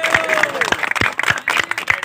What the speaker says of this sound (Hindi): इनके लिए ताली बजा दें